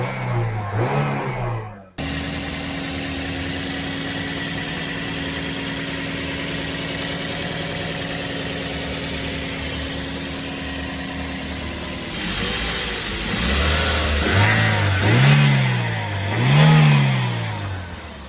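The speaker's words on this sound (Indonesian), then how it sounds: "Nah, jadi ini suara khas, suara normalnya Toyota Vios, Yaris, dan layaknya mesin-mesin yang lainnya." A Toyota Vios car engine idles with a steady, even hum and then is revved several times, each rev rising and falling in pitch as it surges up and settles back, heard close without talk.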